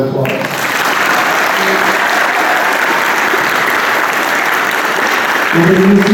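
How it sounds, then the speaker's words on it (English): Sustained applause from an audience at a high school marching band banquet honoring the seniors, a dense, even clapping that fills the room for several seconds and swells slightly near the end. "Let's give our seniors one more round of applause."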